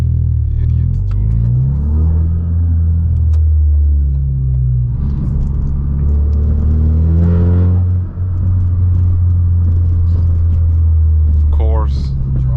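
Ford Focus RS on the road, its turbocharged engine droning low and steady with exhaust rumble, rising and falling in pitch through revs under a person talking.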